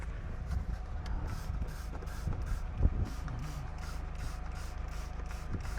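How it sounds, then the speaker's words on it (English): A series of short hissing aerosol spray bursts inside a car, evenly repeated, over a steady low rumble in the enclosed space. "I'm gonna spray some in here just in case there's any filth up in the front"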